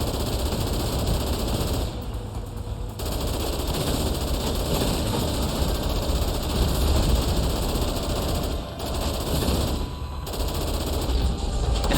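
Video game Dead Rising Deluxe Remaster gunfire as shots are fired at small scanner devices, loud rapid bursts of automatic fire over a rumbling background, broken by a few brief pauses.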